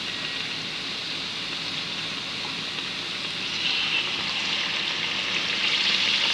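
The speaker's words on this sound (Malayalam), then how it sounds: "ഇത് വറുത്ത് വരട്ടെ." Munthirikothu, a sweet of moong dal, jaggery and coconut, frying in oil over a low flame, a soft even bubbling sizzle with a gentle rain-like hiss that swells slightly midway and carries on without talk.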